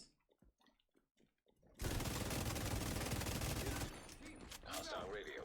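Sustained gunfire from The Division 2 during the McMillan Reservoir assault mission, a loud unbroken fusillade lasting about two seconds after quiet game sounds, then trailing into lower battle noise.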